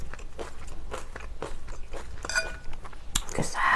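Close, crisp crunching bites and wet chewing of saucy food with rice, repeated rhythmic mouth sounds with a light clink of cutlery near the end.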